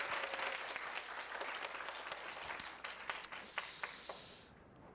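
An event audience applauding three leaders at a summer camp concert: a dense, fairly quiet wash of clapping from many hands that holds steady, then tapers off near the end.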